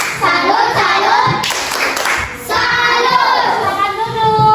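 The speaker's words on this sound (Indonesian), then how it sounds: "kita berikan tepuk salut untuk kelompok 3" A fourth-grade class doing a rhythmic clapping cheer together for a group, loud repeated patterned claps mixed with children's chanting voices.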